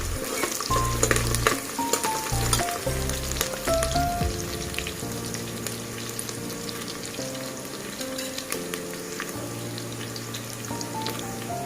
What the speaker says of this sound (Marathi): कांदा चांगला ब्राऊन होईपर्यंत आपल्याला फ्राय करून घ्यायचा आहे